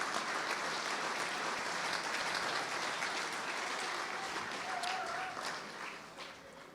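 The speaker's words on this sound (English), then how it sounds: "Please give them a round of applause," A dinner audience at the St. Louis Sports Hall of Fame fall enshrinement gives sustained applause, a steady wash of many hands clapping that fades slightly toward the end.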